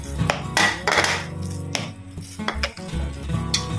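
Fish lumpia mixture with egg and cheese being stirred in a bowl, with spoon scrapes and clinks against the bowl and a steady background hum throughout.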